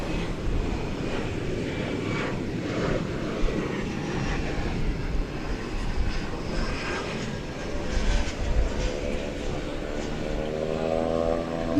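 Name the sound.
Cessna Super Cargo Master airplane landing at DFW Airport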